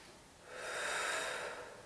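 One slow, soft breath during a posture exercise, rising and fading over about a second and a half, close and quiet with no talking.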